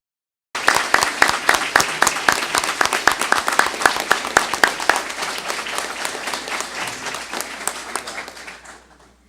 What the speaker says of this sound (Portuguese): Os nossos aplausos ao ganhador da medalha, Rui Barbosa.